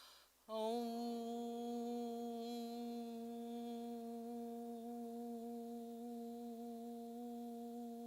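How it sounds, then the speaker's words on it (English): A group of people sustains a long, unison Om chant, steady drone tones holding for several seconds without break, loud and close, no other talking. "They say that the Om is the sound of the universe."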